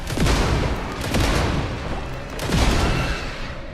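Pistol shots crack repeatedly in the sci-fi horror game Alien: Rogue Incursion, close and loud amid a dense, continuous din of gunfire and booming effects, with no voices.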